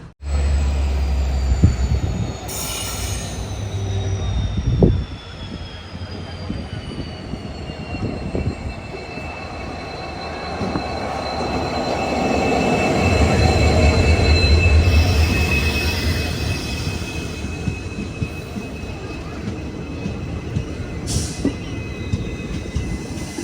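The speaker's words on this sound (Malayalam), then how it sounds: "ഗുരുവായൂരിന്ന് മധുരയിലേക്ക് പോകുന്ന എക്സ്പ്രസ്, ഇതിൻ്റെ മറ്റൊരു ട്രെയിൻ." The Guruvayur–Madurai express rolls in and passes, a long rumble of wheels on rail that swells toward the middle, with thin, sustained wheel squeal and a sharp horn-like burst near the start.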